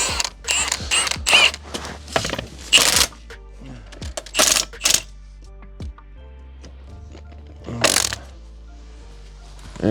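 Metallic ratcheting and clanking from a 21 mm or 19 mm socket wrench on the front end of a 1985 Merkur XR4Ti, coming in several short close bursts with pauses between them.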